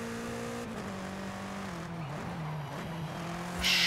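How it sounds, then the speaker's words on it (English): A race car in Forza Horizon brakes hard into a corner during a seasonal championship, the steady engine note dropping in pitch as it slows before a sudden louder burst at the end. "Sharp braking into that corner."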